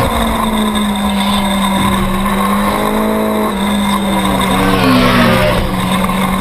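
Novice open superstock motorcycles race on a road course, a continuous loud high engine drone with shifting tones as the bikes come out of a turn, steady throughout with a race commentator's voice underneath.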